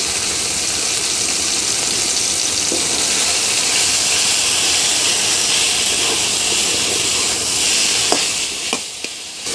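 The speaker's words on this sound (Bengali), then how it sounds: "ভালো করে নেড়েচেড়ে 2 মিনিট ভেজে নিতে হবে।" Boiled jute leaves frying in a pan with browned garlic and chili give off a loud, steady sizzle and hiss, with a few scraping stirs near the end and no voices.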